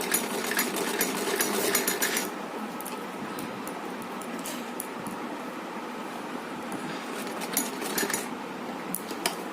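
A sewing machine runs steadily, stitching a seam all the way around a small ribbon dress for a Laddu Gopal idol, sizes 3 to 4, a continuous close mechanical whir with a brief faster burst at the start.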